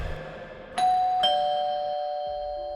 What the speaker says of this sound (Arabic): يسمع صوت جرس الباب